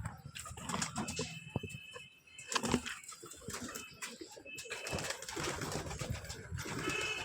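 Pigeons at a loft flutter and coo nearby, with bursts of wing flapping over soft cooing and background rustle.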